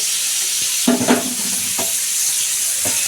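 Hilsa fish being stirred and fried in a pan for bhuna, with a steady sizzle and a few scraping spatula strokes across the pan. No voices.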